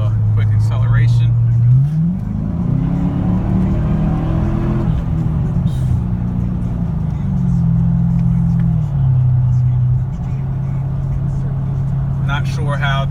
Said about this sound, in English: Go ahead and do a quick acceleration.